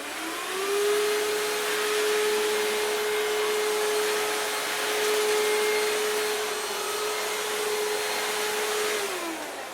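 A Hoover DS22GR cordless vacuum cleaner runs with a steady, loud whine and airy hiss, holding a constant pitch for several seconds before winding down, with no voices.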